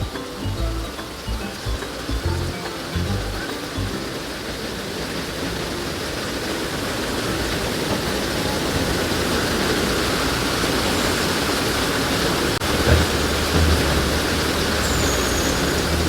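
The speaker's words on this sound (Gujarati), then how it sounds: "પાણી ભરાઈ ગયા છે પણ વરસાદ બંધ થવાનું નામ નથી લેતો" Heavy rain pouring down in Ahmedabad amid flooded streets, a dense, steady broadband wash that stays constant and fairly loud throughout, with a faint low rumble of passing traffic near the end.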